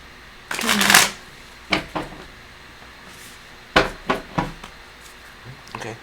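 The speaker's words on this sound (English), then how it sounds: "Okay, I'm saying that's good enough shuffle." Tarot cards are shuffled by hand in short bursts: a longer riffle near the start, then several separate brisk taps and shuffles spaced apart, close and fairly quiet.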